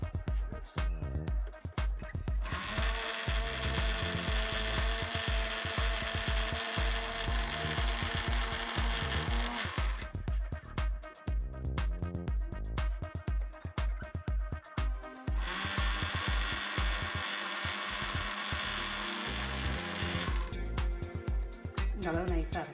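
A mixer grinder whirs loudly while grinding garlic and onion into a paste for Kerala theeyal curry, running in two long bursts with clattering pauses between them.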